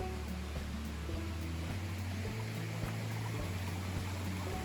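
A creek flows at an emerald mining area in North Carolina, its water making a steady, moderate rushing wash with no voices over it.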